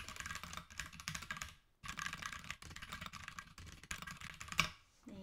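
Quick, steady typing on a computer keyboard, the keys clicking in bursts broken by short pauses, close and fairly quiet with no voices over it.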